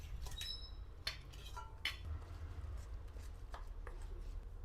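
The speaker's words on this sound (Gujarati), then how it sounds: "આપણે બટેકું ને પનીર 2 છીણ્યું હતું એ આમાં મિક્સ કરી દઈશું" Grated potato and paneer being mixed in a bowl, with a few sharp clinks of a utensil against the dish and soft scraping, fairly quiet, no talking.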